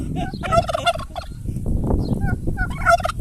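Several turkeys gobble repeatedly at close range on a farm, bursts of rapid warbling calls rising and falling over a few seconds with some background noise.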